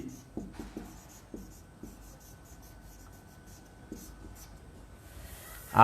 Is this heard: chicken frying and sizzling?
no